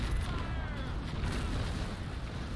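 Heavy naval cannon broadsides from a large ship of the line in the age-of-sail game Naval Action, a dense continuous rumble of booming shots blending into a steady roar.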